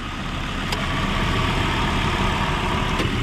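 A 1996 Volvo 850R engine idles smooth and steady, a close, continuous low rumble with no revving.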